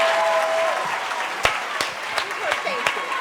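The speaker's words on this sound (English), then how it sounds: "Give her a round of applause." Lively audience applause at a talk event, with a dense wash of clapping, a few sharp louder claps and scattered whoops. Voices talk over it as it gradually thins.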